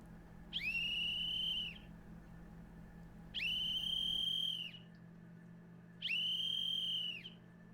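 A 3D-printed plastic whistle is blown three times in loud, piercing blasts of about a second each, with a warbling trill, separated by short gaps over a low background hum.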